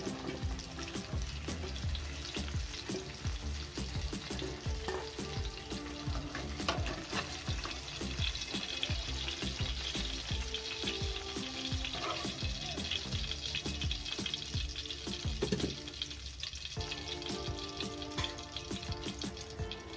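Pointed gourd (potol) frying in oil in a kadai, lifted out with a slotted spoon: a dense, continuous sizzle and bubbling close by, with scattered metallic clinks and scrapes throughout.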